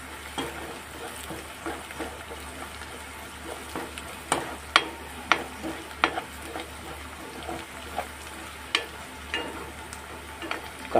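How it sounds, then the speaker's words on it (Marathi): Curry leaves with onion and garlic crackling in hot oil, a soft continuous sizzle broken by sharp popping snaps and a few louder spits, alongside occasional scraping stirs. "कढीपत्ता यामध्ये मस्त असं तडफडतंय"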